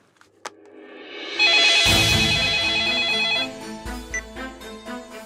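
Telephone ringing in an office scene, a loud electronic ring tone starting after a short click, sustained for about two seconds and then fading into softer trailing tones, no speech.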